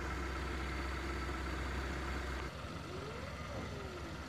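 A cold Mitsubishi T120SS engine idles high at about 1000 RPM, giving a steady, close mechanical rumble that shifts and softens slightly partway through.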